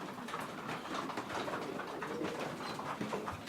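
Pigeons in a pigeon loft, soft continuous cooing from several birds close by, low and steady throughout with no talking.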